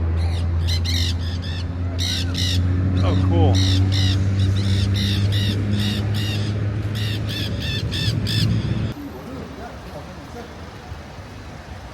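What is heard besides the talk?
parrots calling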